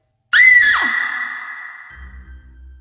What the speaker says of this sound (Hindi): तभी एकदम से हवेली में किसी के चिल्लाने की आवाज गूंज उठी।